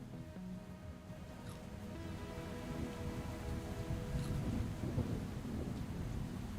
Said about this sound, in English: now you can see the rain, and I have sound for rain